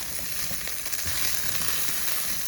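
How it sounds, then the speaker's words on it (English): Potatoes seasoned with salt and pepper fry in a pan, giving a steady, close, even sizzle with light crackle throughout and no talking. "Salt and pepper to taste, and we're gonna fry these up"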